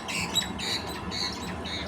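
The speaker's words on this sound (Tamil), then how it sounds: "இந்த குருவிகள் வேறு பிரச்சனை பண்ணிக்கிட்டே இருக்குங்க." Sparrows chirp steadily in a paddy field, a dense stream of bright, overlapping squeaky calls with no talking.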